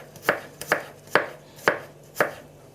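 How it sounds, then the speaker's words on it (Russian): A knife cutting garlic into small thin slices on a board, five crisp, evenly spaced chops close by, with a faint hum underneath and no talk. "Чеснок я буду нарезать маленькими небольшими пластинками."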